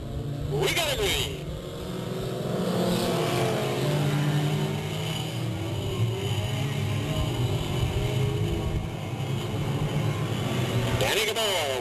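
Race cars roaring off at a green flag start at Delta Speedway in 1998, a loud sustained engine drone with rising revs and passing cars, under an announcer's commentary.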